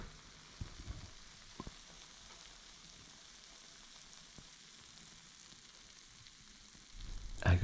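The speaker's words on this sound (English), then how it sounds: "I go crazy for a good sizzle." A freshly broiled vegetarian chicken pizza with a crispy crust sizzles quietly, a faint steady hiss with a few soft ticks and a louder rustling burst at the end.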